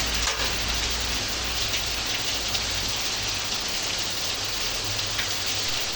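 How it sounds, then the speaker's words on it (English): Heavy rain pours down in a dense, unbroken hiss, loud and close, with no voices or other sounds. "So let's dance with this heavy rain"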